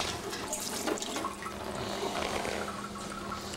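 Beer wort splashing and gurgling continuously as it is transferred into a fermenter during all-grain home brewing, a steady rushing liquid sound with no talk.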